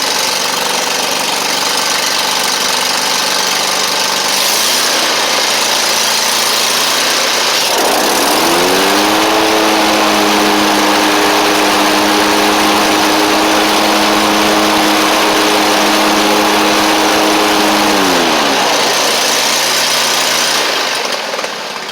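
A Kohler Command engine on a Toro Z Master zero-turn mower runs steadily and loud at close range, its pitch rising for a stretch as the throttle or load changes before settling back; the mower had been down on power, running on one cylinder.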